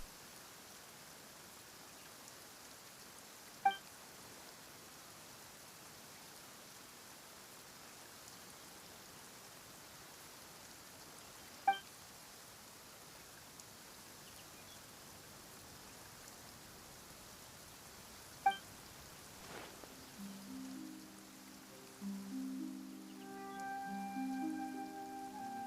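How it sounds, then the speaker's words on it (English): Steady rain falls in the video game Genshin Impact, a soft continuous hiss with a few sharp clicks spaced through it, and some tonal game music rising near the end. "Why is it raining all of a sudden?"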